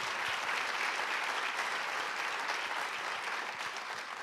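A live audience at a social venture pitch event gives a sustained round of applause, a dense, even wash of many hands clapping that fades slightly at the end.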